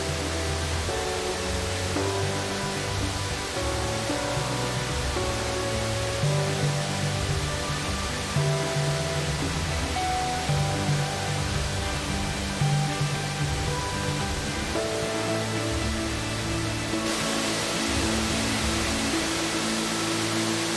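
The Diamante waterfall in a Costa Rican forest pours down from a mountaintop with a continuous, even roar of rushing water. The roar is unbroken throughout, with no voices, and shifts slightly in tone partway through.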